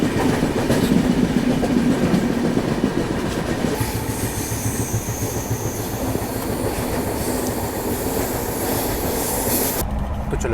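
A moving Gondwana Express passenger train gives a steady, loud rumble of wheels on rails with rhythmic clickety-clack and faint wheel squeal. The noise is continuous from inside, and no one speaks.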